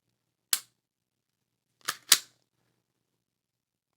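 Springfield Echelon Comp pistol trigger gives sharp, close, dry metallic clicks: one isolated click, then a quick pair in near succession, set against silence.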